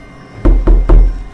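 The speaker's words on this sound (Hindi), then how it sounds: "तभी दरवाज़ा खटखटाने की आवाज़ आने लगी, जैसे कोई जोर से मार रहा हो" Three loud, heavy knocks pound on a door at an even pace, each a deep thud with a short ring after it, against a quiet background on a stormy night in an old haunted bungalow.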